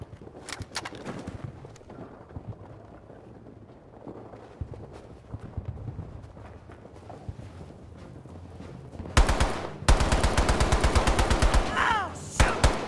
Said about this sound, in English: Guys, I'm taking a lot of fire over here!